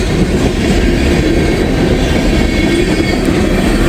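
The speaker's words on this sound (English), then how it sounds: "There goes the 65Q empty ethanol train." A freight train of empty ethanol tank cars rumbles steadily past at close range, a continuous low roar of wheels and rail noise with faint clicking, loud and unbroken throughout.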